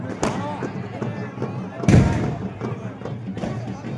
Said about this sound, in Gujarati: સામે સામે બોમ્બ નાખીને બોમ્બ ફટાકડા ફોડે. આવી રીતે દિવાળી મનાવવામાં આવે છે અહીંયા.